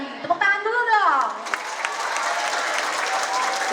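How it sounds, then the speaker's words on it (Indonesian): Children clap together in a classroom or hall, a dense, steady round of applause that begins after a brief spoken phrase and carries on to the end. "Tepuk tangan dulu dong."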